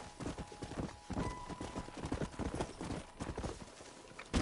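Horse hooves clip-clop in the Red Dead Redemption western video game, a steady galloping rhythm of quick hoofbeats against game ambience, moderately close.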